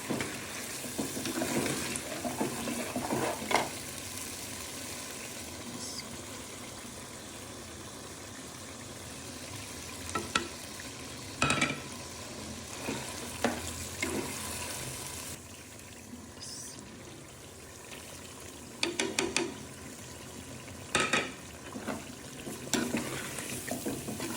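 Fried spices and ground fried onion sizzle in a pot under steady stirring, a continuous frying hiss broken by periodic scraping strokes and occasional louder knocks.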